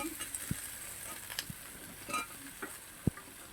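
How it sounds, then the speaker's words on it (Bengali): Green chili and tomato fry in hot oil while a spoon stirs them, a faint steady sizzle broken by a few sharp scrapes and taps against the pan. "প্রথমে তেলের মধ্যে একটা কাঁচা লঙ্কা দিয়ে দিলাম আর এই টমেটোটা দিয়ে দিলাম দিয়ে একটু ভালোভাবে নেড়ে নেব"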